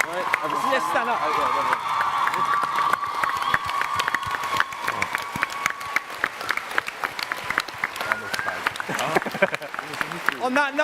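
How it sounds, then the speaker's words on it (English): A large crowd at a TwitchCon panel claps and cheers loudly and continuously, a dense wash of applause with scattered whoops that lingers throughout, close and full. "Would you please give an almighty round of applause as well for Jack, Ranboo, Nikki, Tom, Wilbur, Phil and Tubbo!"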